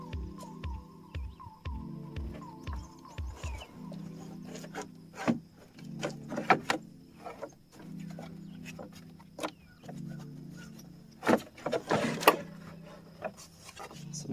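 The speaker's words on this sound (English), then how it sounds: "now comes the kind of hard part of finessing in the whole radiator fan and shroud in here at once" A radiator fan and shroud are worked into a Chevy Trailblazer 4.2L engine bay with scattered plastic scrapes, rubs and knocks over a low steady hum, ending in a cluster of louder clunks.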